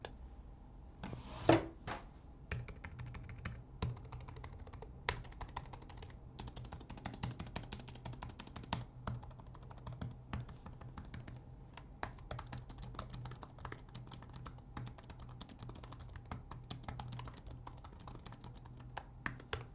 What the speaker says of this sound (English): a basic plastic clicky sound that's caused by those plastic scissor mechanisms